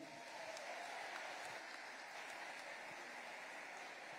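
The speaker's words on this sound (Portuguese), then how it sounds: "Quem está vivo ainda pode aplaudir, está me ouvindo?" Congregation applause at a church service, a faint, distant, even wash of clapping with no distinct individual claps, steady for the whole stretch.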